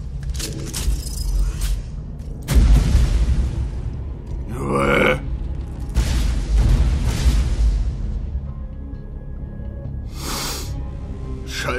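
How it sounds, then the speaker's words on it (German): Several booming rocket launcher blasts from a video game go off at irregular intervals, each a sudden deep burst that fades quickly, with quieter stretches between them. "Wann spiele ich denn hier mal mit Raketenwerfer?"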